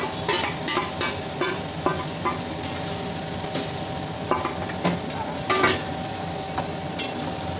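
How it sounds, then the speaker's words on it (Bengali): Marinated chicken stirred into onion paste in a hot pan for chicken rezala, steady sizzling frying under repeated scrapes and clinks of a spoon against the pan at an uneven rhythm. "পেঁয়াজটা হালকা একটু নেড়ে ছেড়ে নিয়ে ম্যারিনেট করা চিকেনটা এবার দিয়ে দেবো, দিয়ে ভালো করে নেড়ে ছেড়ে ঢাকা দিয়ে দেবো"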